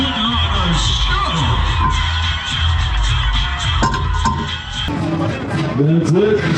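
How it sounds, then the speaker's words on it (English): A crowd at a demolition derby for mini cars cheers, whoops and yells continuously at close range, with the noise swelling and dipping and an announcer's amplified voice cutting in near the end. "Let's give these mini cars a big round of applause."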